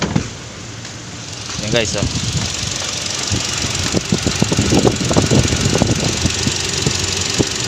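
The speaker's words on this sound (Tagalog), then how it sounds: "Nasa normal yung RPM nya. Yan guys, umaandar na yan." A Toyota Innova 2.0 gasoline engine idles steadily just after a throttle body cleaning, a continuous close engine hum with faint ticking, while someone talks over it throughout.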